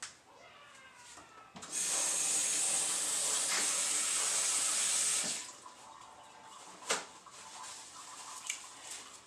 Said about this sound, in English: So now let me wash my hands.